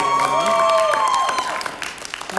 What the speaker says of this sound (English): giving him a thunderous round of applause